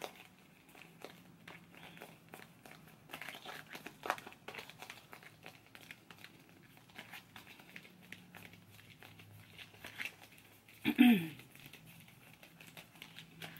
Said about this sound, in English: let me do one last shuffle so I can do clarifications.